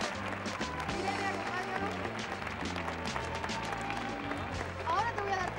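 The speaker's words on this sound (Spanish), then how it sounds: "le tenemos que decir adiós a nuestros campeones, Ana y Pablo, con este fuerte aplauso" Studio audience applause on a Spanish TV game show set at a Feria de Sevilla, dense clapping running throughout under music and someone speaking briefly.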